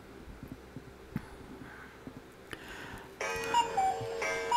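A timer starts ticking in the horror-survival game Organ Trail, with a steady run of sharp mechanical ticks coming in after a few seconds of quiet game ambience and continuing loud to the end.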